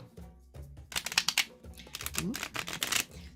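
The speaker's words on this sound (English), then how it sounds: "I'm going to take a little while shuffling this one" Gilded-edge Talisman Oracle cards are shuffled by hand in quick papery riffles and flutters, close and fairly soft, with a low background hum and a brief exclamation from a voice.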